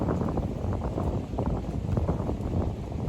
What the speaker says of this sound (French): Il y a un peu de vent par contre aujourd'hui.